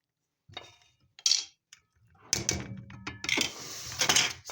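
A utensil clinks and scrapes in a bowl while milk is stirred into potato chapati dough, in irregular knocks and rattles separated by brief quiet gaps.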